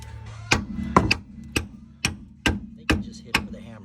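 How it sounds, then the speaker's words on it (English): A hammer strikes a noisy part being removed during a home repair, seven sharp metallic blows in an irregular rhythm, loud and close, with a low steady hum in the background and no talking. "Yep, you just hit it with a hammer."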